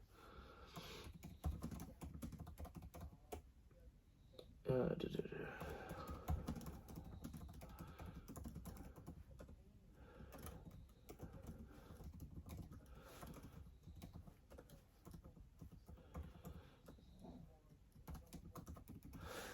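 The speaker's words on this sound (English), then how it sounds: "I might go quiet a minute because I'm typing these details in" Quiet, rapid keystrokes on a computer keyboard, irregular bursts of typing with brief pauses, close and soft.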